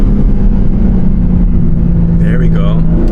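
BMW M3 Competition accelerating in second gear on a street, a steady loud low engine drone heard from inside the car, with someone talking over it.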